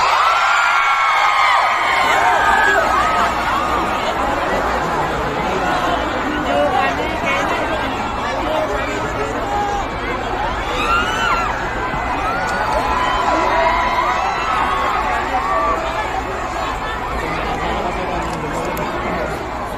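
A large crowd at a political rally in Pampanga, Philippines cheers and shouts continuously, a dense roar of many voices with whoops rising and falling, loud and close throughout.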